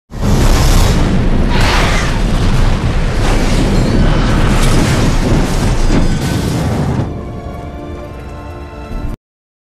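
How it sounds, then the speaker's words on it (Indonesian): An ambulance blows up in the action film The Transporter, a huge, loud sustained blast with rumbling debris that roars for several seconds before tapering into a lower crackling tail and cutting off. "Namun tiba-tiba ambulan itu meledak."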